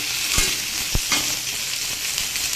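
Cauliflower and potato curry fries loudly in a pan with a dense, steady sizzle. Two distinct spatula knocks land early on, followed by softer stirring scrapes. The sound is close and uninterrupted by any voice.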